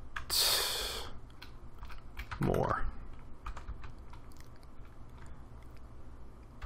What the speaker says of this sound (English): Man, I'm not used to using this keyboard.